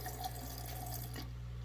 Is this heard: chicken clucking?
no